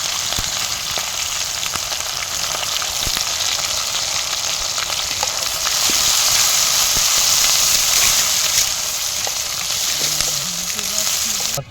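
Chopped onion and green chilli sizzle loudly in hot oil with curry leaves and mustard seeds, a steady dense frying hiss for South Indian Kerala chicken or fish curry that swells a little partway through, with no voices.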